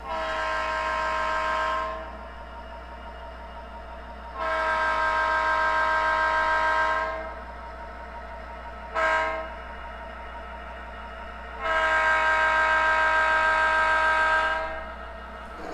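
A SoundTraxx Tsunami2 decoder plays mid-range diesel locomotive sounds: a steady idling engine rumble under four loud, sustained chime-horn blasts, three long and one short, clear and close.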